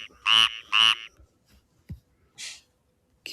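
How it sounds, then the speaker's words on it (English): A Cuban tree frog calls with two loud, raspy croaks in quick succession, followed by a softer, shorter croak after a brief pause, close and clear against a quiet background. "That's the invasive tree frog that's competing with a lot of native species."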